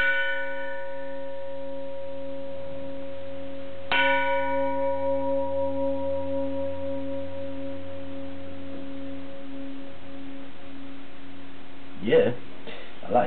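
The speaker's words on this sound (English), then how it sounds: "from the other half of a barrel came out this, which I call it a beer barrel singing bowl" A singing bowl made from half a beer barrel is struck once, giving a sharp metallic hit that blooms into a long, bell-like ring of layered tones. The ring slowly fades, then a few faint knocks follow near the end.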